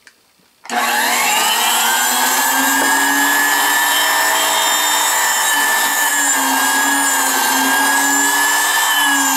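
A sensitive drill press running at 17,000 RPM with no speed control drills into un-center-punched brass, giving a loud, steady high-pitched whine and cutting sound that starts abruptly after a brief quiet moment and continues without talk.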